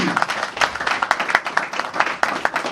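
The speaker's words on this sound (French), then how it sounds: "Il faut l'applaudir." Guests at a gala dinner applaud in a lively, uneven burst of distinct claps, fairly close and loud, with crowd murmur underneath.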